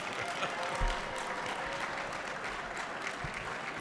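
A faint, thin smattering of audience applause at a leadership prize event, scattered claps under a low room murmur.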